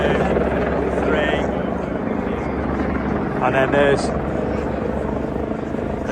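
Loud, steady thrum of two helicopters overhead in London while someone talks over it, with a brief higher tone cutting in near the middle.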